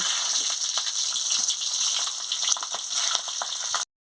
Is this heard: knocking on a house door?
no